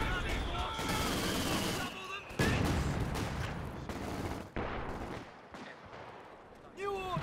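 Machine gun bursts and mortar blasts in the World War II strategy game Company of Heroes 2, dense rattling fire and heavy explosions over game ambience, loud and continuous with sudden booms.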